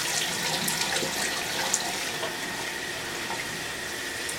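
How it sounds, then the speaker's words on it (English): Water runs steadily from a sink tap onto a doll's hair, a close, even hiss and splash with no break. "So I'm just going to put her head over here and then just wet it a little bit."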